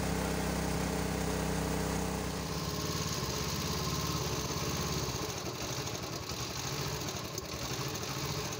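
A boat's motor chugs on a reservoir, a steady close mechanical drone with a rhythmic rattle that loosens and changes tone partway through, with no speech.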